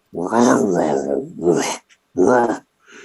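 A person's voice imitates a creature's growl during a Dungeons & Dragons tabletop session. It comes as two or three rough, throaty bursts, close and loud, separated by short pauses.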